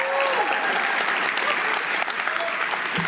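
Loud audience applause at a comedy show, sustained and dense throughout, with a faint voice or whistle briefly audible early on and the clapping thinning slightly near the end.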